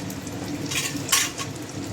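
Whole garam masala spices, cardamom, cloves, cinnamon and bay leaves, tempering in hot oil, a soft continuous sizzle with a brief sharper spit and crackle partway through.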